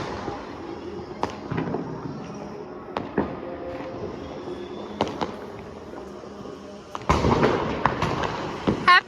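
Diwali firecrackers bursting outdoors, a series of sharp separate bangs spaced a second or two apart, then a denser louder crackling burst near the end, with faint voices in the background.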